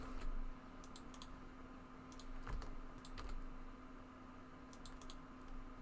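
Soft, close computer keyboard typing and mouse clicks come in short scattered bursts as Blender shortcuts are entered, over a steady low electrical hum.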